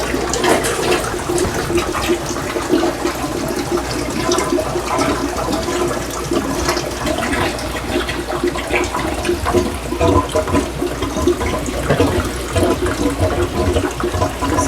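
An Odyssea CFS 700 canister filter pump runs with water moving through it, a continuous close rushing and gurgling churn that holds steady and fairly loud throughout, with no voices.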